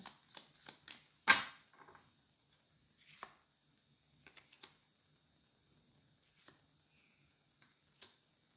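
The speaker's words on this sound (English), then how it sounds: "I'm going to pick three cards from the Lenormand deck" A Lenormand card deck being handled at a reading, giving crisp taps, flicks and shuffling snaps close by, spaced irregularly with quiet gaps between.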